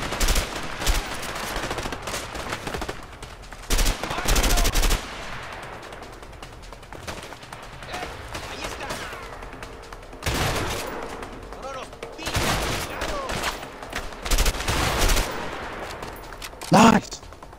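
Gunfire rattles through a shootout in the video game A Way Out. Repeated bursts of automatic fire and single shots come loud and near, with quieter stretches between volleys.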